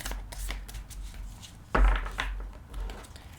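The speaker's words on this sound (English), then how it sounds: "let's do a little shuffle test so far" Soft riffling and slapping of a tarot deck being shuffled by hand close up, with a sharper thump in the middle as the cards are squared, no voices.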